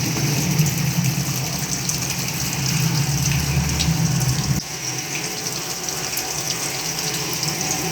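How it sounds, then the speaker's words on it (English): Water pours steadily into a volumetric collecting tank on a flow-through-orifice apparatus, a continuous rushing gush over a pump-like hum; the lower rumble drops away partway through while the splashing flow carries on alone. "As you can see that amount of water is collecting in this volumetric tank."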